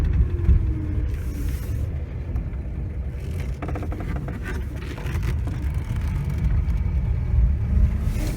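A 1988 Volga GAZ-24-10 sedan drives along with a low, steady engine rumble and road noise, heard from inside the cabin.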